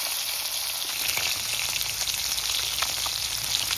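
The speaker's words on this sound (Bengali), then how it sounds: "কড়াই গরম হয়ে গেছে, তেল দিয়ে দিই মাছ ভাজার জন্য।" Hot oil in a heated kadai, ready for frying small koi fish caught from a field drain, hisses and crackles in a dense, even sizzle that stays loud and close throughout, with no voices.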